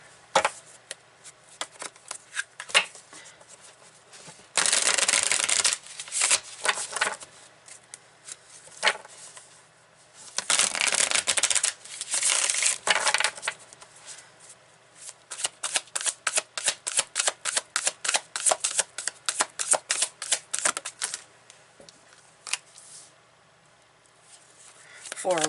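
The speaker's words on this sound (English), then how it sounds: "I'm going to put these aside, and I'm going to pull some cards." Tarot cards shuffled and pulled, with close papery riffles and long swishing bursts followed by a run of quick rhythmic card flicks, plus light handling sounds and soft talk in between.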